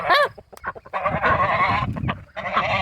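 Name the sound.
geese honking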